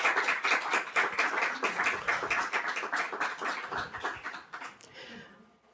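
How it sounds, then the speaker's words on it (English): A conference audience claps for the interpreters, a lively burst of many hands that stays strong for several seconds before thinning out to a few last claps. "So let's give them a round of applause."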